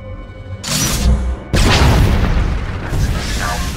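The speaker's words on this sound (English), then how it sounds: "That's the sound of my flux cannons incinerating one of your capital ships." Flux cannons in a video game blasting apart a capital ship: a deep, heavy boom, then a second, larger explosion that rolls on in a long rumbling roar.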